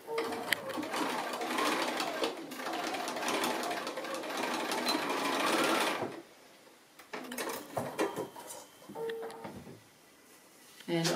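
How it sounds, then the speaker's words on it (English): A sewing machine stitches across a seam on a pencil case made from 2 1/2-inch fabric strips, running in a loud, close, rapid mechanical rattle for several seconds, then a pause, then a few shorter bursts of stitching. "then stitch across, and it will all work out fine"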